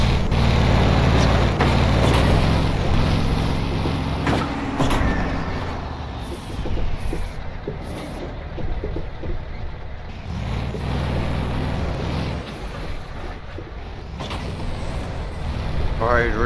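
A Volat truck nicknamed the Green Monster, painted green on low-profile tires, drives in American Truck Simulator with a steady loud engine drone, creaks and an air-brake hiss, while someone talks over it.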